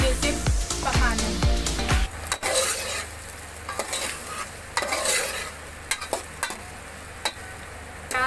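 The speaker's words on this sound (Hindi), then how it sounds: "अब ये प्याज को हमें गोल्डन ब्राउन होने के लिए अच्छे से पकाना है।" Sliced onions fry toward golden brown in a pan for chicken aloo gosht salan, giving a steady sizzle with stirring clinks, after a brief stretch of voice at the start.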